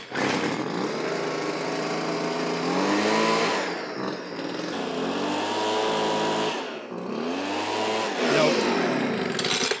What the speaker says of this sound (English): there's a leaf blower right there